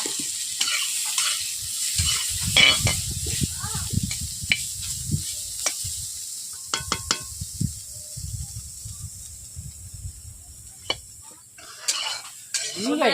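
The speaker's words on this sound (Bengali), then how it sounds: "ফুলকপিগুলোকে আমি ভেজে নিচ্ছি হালকা করে" Cauliflower florets fry in hot oil in a pan with a steady sizzle, punctuated by repeated scraping and clinking stirs of a utensil against the pan.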